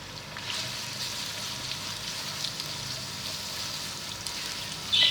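Onions frying in oil in a pan, a steady soft sizzle and crackle holding evenly throughout without talk, with a brief louder clatter at the very end.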